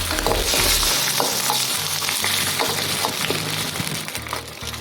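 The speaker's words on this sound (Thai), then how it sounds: "เราทอดอันนี้เสร็จแล้วเราก็ทอดอะไรอีกคะ" Food frying in hot oil in a temple kitchen, with a loud, continuous sizzle and the scrape of occasional stirring, all close by.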